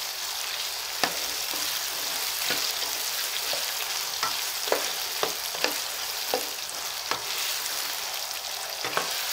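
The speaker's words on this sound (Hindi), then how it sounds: "तकरीबन 5 से 7 मिनट इसको फ्राई करेंगे।" Potatoes with turmeric and salt fry steadily in a pan for a winter mixed vegetable dish, a constant close sizzle broken by sharp scraping clicks as they are stirred.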